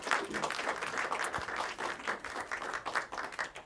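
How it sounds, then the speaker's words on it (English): A bookstore audience gives a round of applause, a faint, fairly sparse patter of clapping that continues evenly for a few seconds. "big round of applause"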